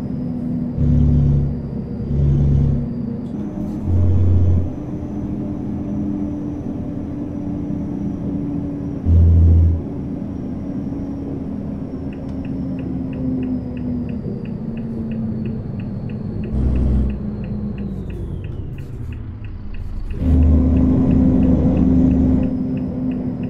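A Volvo 460 truck pulling a bitrain trailer decelerates toward a roundabout, its low engine drone falling steadily in pitch, with occasional deep thumps and a faint high whine over the constant cab rumble.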